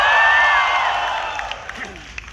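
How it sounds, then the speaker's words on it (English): A live audience at a film trailer launch event cheers and whoops in one loud burst that fades away over a couple of seconds, with scattered claps trailing off. "I'll just pretend that cheer was for me in my speech"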